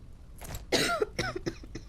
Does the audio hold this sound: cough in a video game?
yes